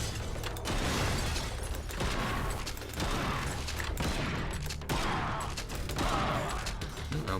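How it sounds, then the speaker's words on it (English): Shotgun fire in the game Bunker Punks, a rapid series of sharp blasts and clattering mechanical bursts repeating every second or so, loud and up close. "I also feel like the shotgun misses sometimes when it really shouldn't if it's firing in a spread."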